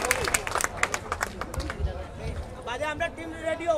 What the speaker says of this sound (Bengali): জোরে একটি হাততালি তার জন্য